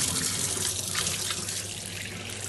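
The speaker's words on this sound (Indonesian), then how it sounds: "Dan juga kita basuh kacang dal kita." Mung beans being rinsed in water at a kitchen sink, a steady running-tap wash with soft splashing and sloshing, fairly close and continuous, with no voices.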